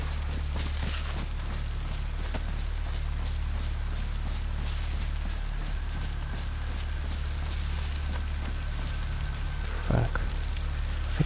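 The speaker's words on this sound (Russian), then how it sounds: "Хотя дождик идет." Rain falls in the survival video game DayZ, a steady, even hiss of drops that persists throughout, with a few soft thuds and a brief knock near the end.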